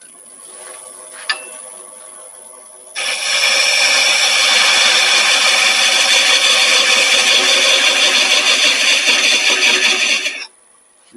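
A power drill whirs loudly and steadily for several seconds, starting abruptly after a quiet hum and cutting off near the end.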